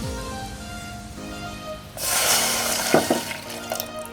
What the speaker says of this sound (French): on va venir mettre notre beurre ainsi que notre eau